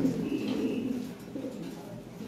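Close-up Lahore pigeons coo in a low, drawn-out burble that carries on almost without pause, gentle and fairly quiet, with no voices present.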